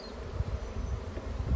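Honeybees in a tub buzz in a close, steady drone with small swells in loudness, no voices present.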